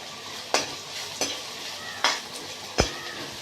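Onion sautés in a pan with turmeric, asafoetida and salt, giving a steady close sizzle. Four distinct scraping stirs of a spoon against the pan land at fairly regular intervals.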